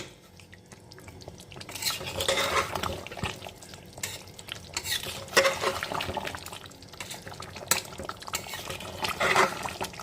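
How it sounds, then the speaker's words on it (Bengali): Mutton vindaloo with boiled potatoes is stirred and sautéed in a pan, giving wet, sticky scraping and clinks of a spoon against metal over a low sizzle, in irregular bursts close by. "আমি ভালো করে কিন্তু আর কিছুক্ষণ কিন্তু কষিয়ে নেব"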